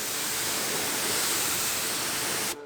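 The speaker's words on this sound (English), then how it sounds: "just keep the water stream moving, use it to just actually move off the product and the muck and the residue and whatnot" Steady broadband hiss of a water hose stream rinsing a car engine bay on a moldy old Volvo, continuous and close, cutting off abruptly at the end.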